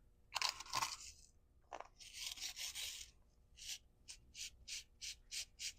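Old Quikrete all-purpose sand is poured into a container in bursts, giving close, gritty hissing and crunching pours, a few longer rushes, then a steady run of short, evenly spaced scraping pulses with no talking.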